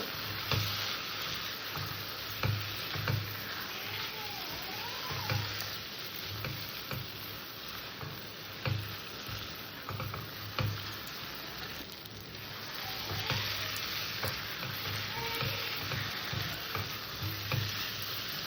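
Fried potatoes sautéing with spices in a pan for a pointed gourd and prawn curry, a continuous close sizzle broken by regular scraping stirs of a spatula, no voices.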